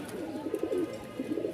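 A pair of Toy Lahori pigeons coos softly nearby, a short run of low, rolling throaty calls with no talking.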